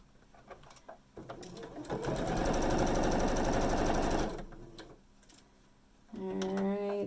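A sewing machine stitches a Spinning Star quilt block in one steady, rapid run of about two seconds, quiet and close, with softer handling sounds before and after and a brief voice at the end.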